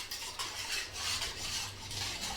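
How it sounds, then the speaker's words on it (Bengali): Iftar food being mixed by hand in a bowl, a soft close squelching rustle that keeps a gentle, uneven rhythm, quiet and with no talk. "তা আমি এখন বসবো এই যে ইফতারি মাখার জন্য"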